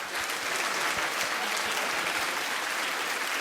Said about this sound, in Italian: un applauso per il coro polifonico Anninora di Desulo